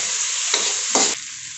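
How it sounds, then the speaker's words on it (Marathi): Onion and tomato sautéing for potato-onion poha over a high gas flame, a bright continuous sizzle broken by two quick scraping stirs, close and alone without talk. "थोडा वेळ मोठ्या गॅसवरती आपण परतणार आहोत आणि त्याच्यानंतर मग मंद गॅसवरती चांगला कांदा टोमॅटो मऊ असतोपर्यंत आपण परतून घेणार आहोत"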